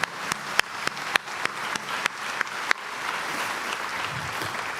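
Scattered sharp claps at first, then a dense, steady round of applause from a church congregation indoors, moderately loud and without talk.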